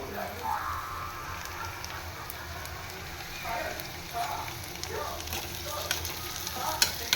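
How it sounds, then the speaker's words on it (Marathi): Carrots stir-fried in a hot pan give a steady crackling sizzle with scattered sharp pops and occasional scraping stirs, close and continuous with no talk. "हे गाजर घालून घेतलं, गाजर पण छान परतून घ्यायचं."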